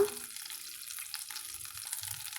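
Mustard seeds and chana dal frying in melted butter in a pan, a soft steady sizzle with faint scattered crackles and a gentle watery hiss, close and quiet with no talking.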